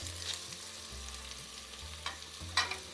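Whole garam masala spices crackle and sizzle in hot oil as a spoon stirs, with a few scraping clinks against the pan; close and fairly quiet, no talking.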